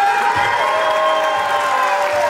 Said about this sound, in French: je voudrais rappeler un applaudissement sur le cœur.